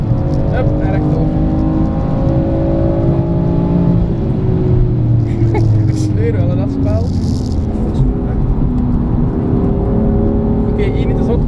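A BMW M4 driven flat out on the Nürburgring Nordschleife, its engine loud and close, pitch climbing through the gears with a shift dip midway, while a voice talks over the cabin roar.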